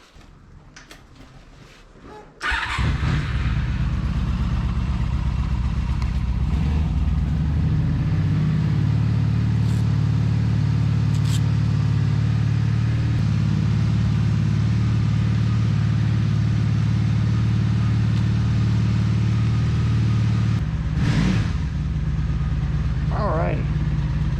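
Motorcycle ridden on rural back roads from the rider's seat, a brief quiet start then the engine starts up and settles into a loud, steady low rumble with wind noise that lasts to the end.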